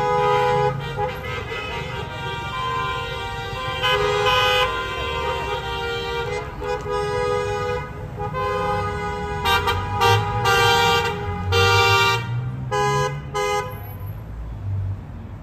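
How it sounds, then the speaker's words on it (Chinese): Passing cars and trucks sound repeated horn toots in support of a street protest in Beijing, the honks overlapping loudly and continuously with traffic rumble underneath. "过路的车辆也鸣笛支持"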